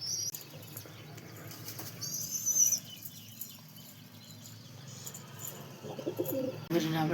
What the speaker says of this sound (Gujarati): તમે જુઓ આ સાઈડ પર કબૂતર સણ ખાય છે.